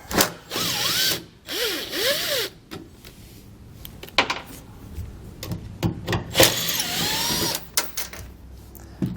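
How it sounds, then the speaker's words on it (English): A drill spins a T20 Torx bit to back out the tail light fasteners inside an open tailgate, with short bursts of whirring and ratcheting and pauses between them. Small clicks and handling noises fill the gaps. "We're going to pull those out using a T20 Torx bit."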